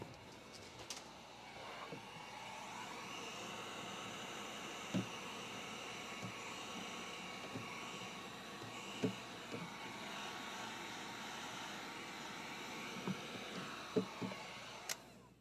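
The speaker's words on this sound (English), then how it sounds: "me get my heat gun here" A heat gun blows hot air during window tinting on a carbon-trimmed Ford Explorer, a steady broadband whoosh holding level throughout, with a few faint clicks and handling knocks over it.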